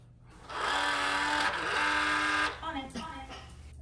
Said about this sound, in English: The front door locked.